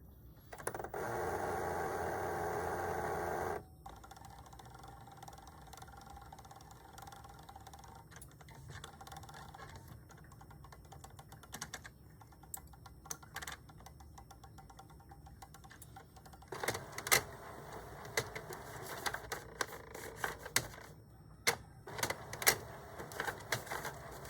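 A DTF-converted Epson XP15000 printer runs after a print-head and capping-station cleaning. It gives off quiet mechanical whirring, then bursts of rapid clicking and ticking that grow busier toward the end, with no talking.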